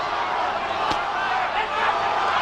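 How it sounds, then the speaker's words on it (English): Boxing arena crowd during the 1997 Holyfield–Moorer heavyweight rematch roars continuously in a loud, dense wash of cheering, with a commentator talking over it. "The crowd trying to urge Holyfield on."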